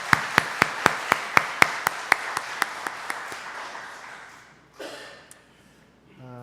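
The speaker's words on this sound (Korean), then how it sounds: "우리 감사의 박수 한번 부탁합니다." During a Sunday church service, the congregation claps for the choir: sharp, evenly spaced claps in a steady rhythm that gradually fade out, followed by a brief rustle and quiet.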